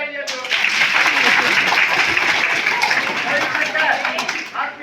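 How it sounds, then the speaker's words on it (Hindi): An audience at an outdoor street play on forest fire safety breaks into a burst of clapping that swells quickly and holds steady for several seconds, dense and fairly close. "गौरी शंकर जी के लिए ताली बजाइए।"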